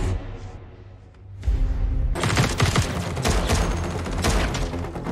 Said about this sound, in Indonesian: Ia pun diberondong tembakan senjata mesin.